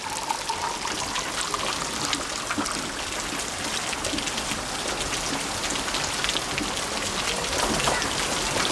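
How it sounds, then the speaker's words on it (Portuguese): Heavy rain pours down in a dense, steady hiss of drops striking the ground, with no break or change in intensity. "Há chuva demais para a terra absorver, então ela desce por sulcos e riachos."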